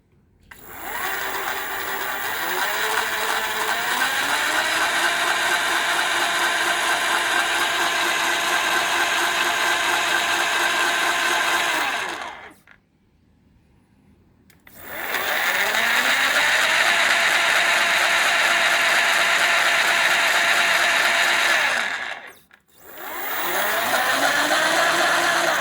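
A 48V 500W mid-drive electric motor with a reduction gearbox whirs steadily with a mechanical, ratchet-like gear drone, stopping briefly twice before spinning back up, loud and alone with no talking.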